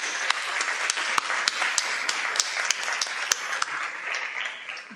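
A school board meeting audience applauds the young students, steady clapping with a few sharp, close claps standing out, moderately loud and fading slightly toward the end.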